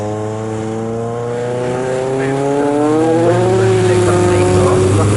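Race cars in the 750MC Sport Specials Championship lap Snetterton, their engines droning loudly and rising in pitch as they accelerate under a continuous commentary voice.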